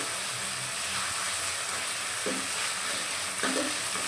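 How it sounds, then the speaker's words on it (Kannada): Mustard seeds, dry red chillies and onion fry in a pan for bele rasam. A steady close sizzle is broken by a couple of stirring scrapes, with no talking. "ಸಾಸಿವೆ ಅದನ್ನು ಸೊಪ್ಪು ಒಣಮೆಣಸಿನಕಾಯಿ ಮತ್ತು ಈರುಳ್ಳಿ ಹಾಕ್ತೀನಿ ಈರುಳ್ಳಿ ಸ್ವಲ್ಪ ಫ್ರೈ ಆಗಲಿ"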